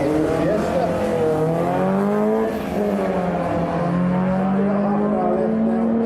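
Ford Escort 16-valve and a Fiesta drag racing at Santa Pod, a loud continuous engine note rising in pitch through the gears as the cars accelerate away, steady and close throughout.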